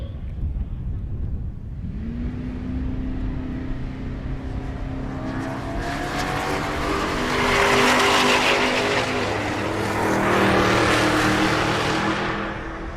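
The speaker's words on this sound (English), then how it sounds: "Nico Christofori in the left lane, the Fox Body Mustang, going against the G Body." Drag race between a Fox Body Mustang and an 81 Monte Carlo G Body at Rocky Mountain Race Week: engines idle, then roar and rise in pitch at launch with tire noise, swelling loud as the cars pass, with announcer talk faintly underneath.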